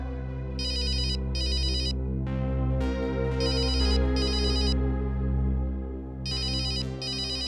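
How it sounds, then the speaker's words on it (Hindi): An electronic phone ringtone plays in repeated short bursts over a steady, humming background, with no voices. "तेरा फोन है।"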